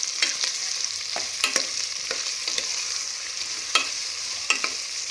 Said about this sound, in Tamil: இப்போது நல்லா எண்ணெயில் ஆனியனை வதக்குறோம்